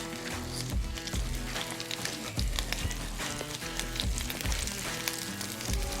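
Bacon frying in its own grease in a pan while a breakfast feast is cooked gives off a steady, dense sizzle of crackles and pops, loud and close, continuing unbroken with no one speaking.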